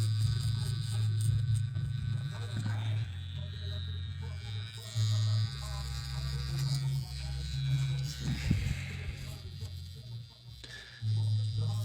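Tattoo machine running a 9-round mag needle, a steady low electric buzz that stops and restarts in bursts, close up and moderately loud.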